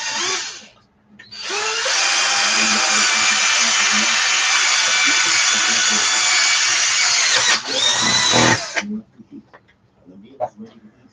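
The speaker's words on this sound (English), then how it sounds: "Don't ever drill towards yourself. It's dangerous." An electric drill whines steadily for about six seconds at close range during repair work on an RC truck, then stops with a short rev and a few clicks.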